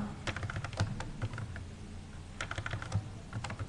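Fingers tapping out an address on a computer keyboard, with two quick bursts of close, crisp keystrokes separated by a brief pause, and no talking.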